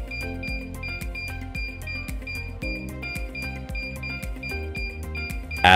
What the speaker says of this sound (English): After you reach over the target, the beep signal will accelerate to confirm that the target is directly under the device.